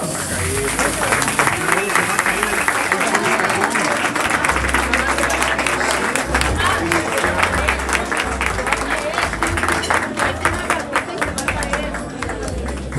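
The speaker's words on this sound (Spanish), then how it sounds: "¡Los aplausos!" Sustained applause at a birthday-style party, dense clapping and crowd noise filling the whole stretch at steady volume, with people talking and a low rumble of music or voices underneath.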